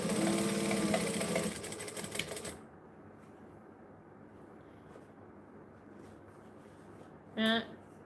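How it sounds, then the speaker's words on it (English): A sewing machine runs fast over a fabric seam allowance for about two seconds with a busy rattling buzz, then stops, leaving quiet room tone and a brief voice. "We're sewing over our seam allowance."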